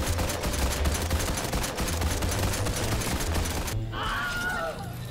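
Rapid bursts of automatic gunfire in Fortnite, fired at player-built structures, loud and dense for several seconds before cutting off into quieter game sounds.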